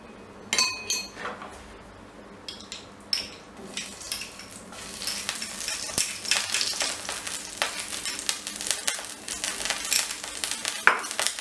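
A ladle of ghee sizzling in a tajine pan while making chicken chtitha, with soft frying crackle beneath repeated clinks and scrapes of a utensil against cookware.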